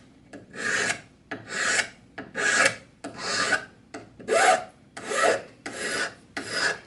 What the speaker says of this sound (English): holding the file at a low angle, and I'm just stroking it